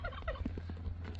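A quick burst of turkey gobbling, short rapid warbling notes, fairly quiet over a low steady hum.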